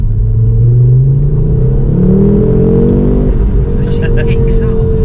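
A MK2 Ford Focus RS accelerates hard, its engine note climbing steadily in pitch through the gears. The loud, close cabin rumble holds throughout, with a brief high whistle near the end.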